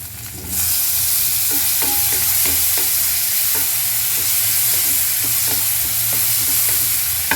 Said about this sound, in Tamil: வெங்காயமும் பூண்டும் நல்லா வதங்குது